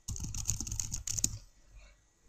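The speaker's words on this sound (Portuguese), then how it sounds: "Digito qualquer coisa aqui no meu memo" Quick clacking keystrokes on a computer keyboard, close and crisp, as text is entered into a memo field, a short run of taps that stops and leaves near silence.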